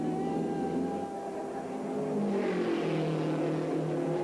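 A 1962 Indianapolis 500 race car engine roars steadily at speed, a loud continuous drone with a slight pitch shift as it passes, no voices.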